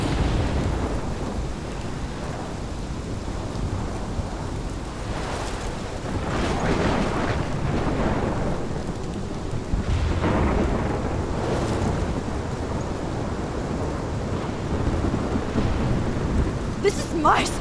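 A thunderstorm with steady heavy rain from the video game Life is Strange, a continuous close downpour with low rolling rumbles of thunder swelling and fading throughout, with no talking.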